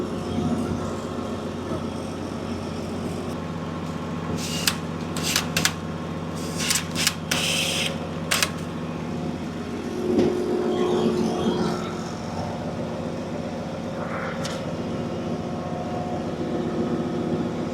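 A farm machine tightening belts runs with a steady, loud mechanical hum throughout, broken by a few sharp clanks and rattles midway, with no talking.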